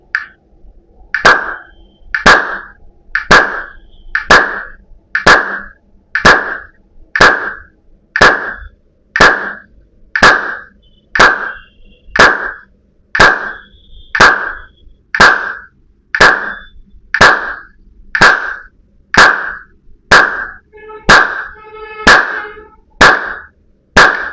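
Hand claps struck in time with a beat during a yoga session, evenly spaced single sharp claps repeating at a steady rhythm, loud and close with no talking.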